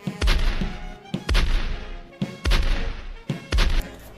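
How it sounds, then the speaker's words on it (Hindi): A 21-gun cannon salute at a funeral, heard as four loud booms spaced about a second apart, each with a sharp crack followed by a rumbling decay. "उसकी अंतिम विदाई में 21 तोपों की सलामी दी गई।"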